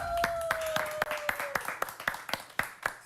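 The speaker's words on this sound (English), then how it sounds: "Give him a round of applause, guys." A live television studio audience gives a cooking contestant's baguettes a round of applause, with scattered, uneven claps popping out over a steady background tone at a modest level.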